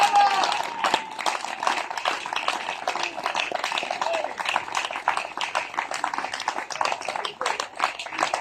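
Church audience applauding as their pastor is called up, a dense steady patter of many hands that fills the whole stretch, with a voice heard briefly near the start.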